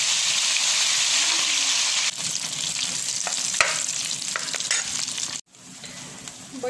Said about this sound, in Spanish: Tengo aquí manteca, ya esta manteca está bastante caliente. Ahora aquí voy a agregar mis frijoles.